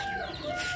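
Young Rampuri Aseel chickens in Kolkata cluck and squabble while fighting in a pen, a brief close burst of agitated fowl calls with no voices.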